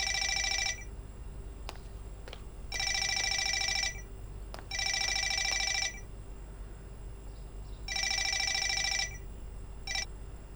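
Mobile phone ringing in short electronic bursts, four repeated ring phrases separated by pauses, fairly quiet over a low background hum with no talk.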